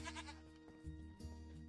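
Goat named Bob bleating in Minecraft: a couple of short, nasal bleats separated by a brief gap, close and moderately loud, with no talking.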